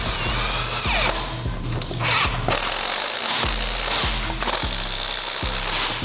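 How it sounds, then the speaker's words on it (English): A power tool hammers in loud, close bursts as it tightens a spring compressor on a 2022+ Subaru WRX sport spring. Several rattling impact runs are cut by short pauses, and no one speaks. "Jerry's gonna lock it down with the 19, Jerry."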